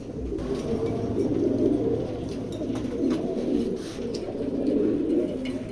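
A male pigeon coos inside a loft, its low, throaty rolling calls repeating in soft waves close by, with faint clatter in the background.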